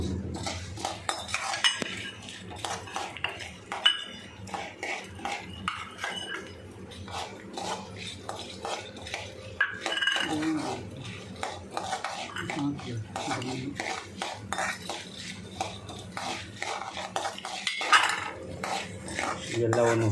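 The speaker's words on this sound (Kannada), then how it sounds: "ಇವೆಲ್ಲವನ್ನು ಮೊದಲು ಚೆನ್ನಾಗಿ ಹುರಿವಿ." Black peppercorns, chana dal and spices dry-roast in a pan for Mangalore cucumber sambar, with repeated scraping and clattering of a utensil against metal and occasional talk in the background.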